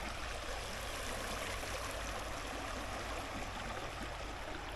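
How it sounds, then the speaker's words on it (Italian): Artugna mountain stream, swollen with water, rushing against a small footbridge: a steady, dense broadband roar of flowing water close by, unbroken throughout with no voices. "c'è l'acqua che va a sbattere proprio sul ponticello"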